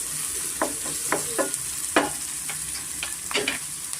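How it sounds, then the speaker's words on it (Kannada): Onions fry in a pan with salt and turmeric for a brinjal chutney, giving a steady close sizzle broken by several sharp scraping stirs of a spoon across the pan. "ಈರುಳ್ಳಿ ಸ್ವಲ್ಪ ಸಾಫ್ಟ್ ಆಗೋದಕ್ಕೆ ಸ್ವಲ್ಪ ಉಪ್ಪು ಮತ್ತು ಸ್ವಲ್ಪ ಅರಿಶಿನ ಹಾಕ್ಕೊಂಡು ಸ್ವಲ್ಪ ನಾವು ಚೆನ್ನಾಗಿ ಫ್ರೈ ಮಾಡ್ಕೊಬೇಕಾಗುತ್ತೆ"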